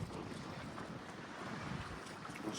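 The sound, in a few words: sea waves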